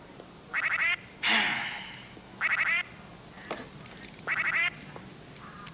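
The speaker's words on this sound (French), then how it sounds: "Coin, dans la mare, les canards" Three bursts of raspy quacking from nearby ducks, spaced apart, with a short squawk and faint splashes or clicks between them.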